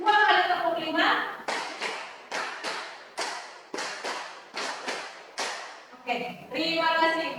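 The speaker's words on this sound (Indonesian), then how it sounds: "Tepuk tangan silakan" Group of children and adults clapping in unison during a classroom clapping game in Indonesia: a patterned sequence of about a dozen sharp, loud claps in rhythmic groups, with voices talking before and after.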